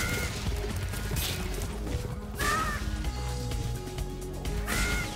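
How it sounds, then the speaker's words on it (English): Seagulls in Spyro Reignited Trilogy give about three short, harsh caws, spaced a couple of seconds apart. Busy game music and effects play underneath. "I killed the seagulls, everyone is safe now"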